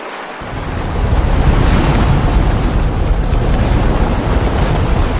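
Flood waters surging around a boat, a loud continuous rush of waves and wind that swells in after a brief quieter opening and stays steady throughout, with no voices.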